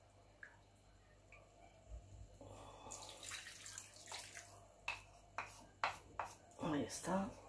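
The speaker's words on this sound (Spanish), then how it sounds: "Le voy a poner un poquito de agua." Water poured from a container into a cooking pot of potatoes in a home kitchen, a short run of splashing and trickling followed by several distinct sloshes and drips, close and moderately loud, with no talk over it.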